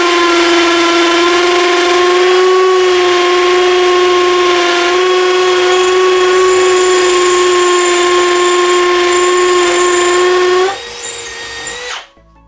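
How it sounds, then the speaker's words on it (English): A Bosch Universal Impact 18V-60 cordless drill bores a 6mm hole into brick, giving a steady, loud, high motor whine for about eleven seconds before it winds down and stops, heard close up with no talk. "let's see how it copes drilling a 6mm into some brick"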